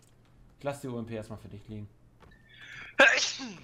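A single sharp, close sneeze bursts out right after a stretch of calm conversational talk in German.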